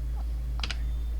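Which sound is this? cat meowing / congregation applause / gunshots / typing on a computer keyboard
typing on a computer keyboard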